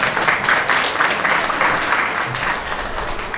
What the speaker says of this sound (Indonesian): Kasih tepuk tangan nak.